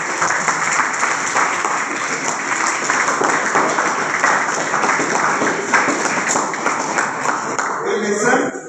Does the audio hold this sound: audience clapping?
yes